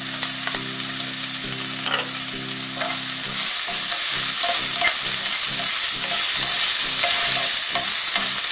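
Garlic sautéing in a hot pan for Bicol Express chicken, a steady loud sizzle with repeated stirring scrapes and clinks, no voices.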